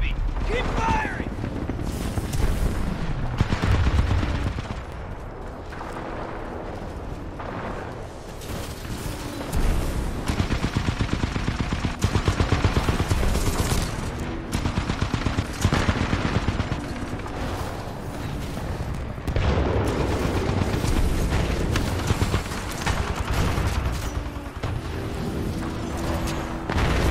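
Sustained gunfire in a Titanfall 2 Attrition multiplayer match, dense bursts and booms continuing loudly throughout, with a player's voice talking over the shooting.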